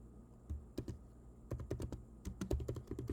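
Someone types a single word on a computer keyboard, producing a quick, uneven run of close, crisp key clicks that come in small bursts with brief gaps, and no speech.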